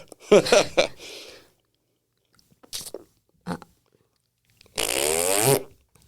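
Comic fart noises: a couple of short sputtering bursts, then two brief blips, and finally a long loud buzzing rip lasting under a second, isolated against silence.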